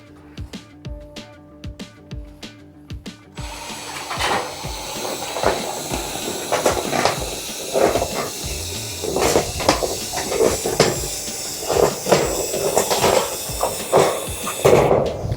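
Hand-pushed sheet metal shears cutting through sheet metal, starting with a run of sharp, evenly spaced clicks, then a louder, denser crunch of repeated metallic snips and scraping up close that keeps going to the end.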